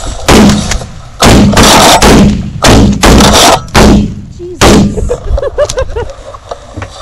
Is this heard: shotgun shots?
yes